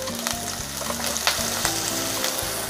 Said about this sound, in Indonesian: Saya akan tumis dulu bawang merah dan bawang putih yang sudah diiris tipis. Ditumis-tumis sampai mengeluarkan aroma yang harum ya.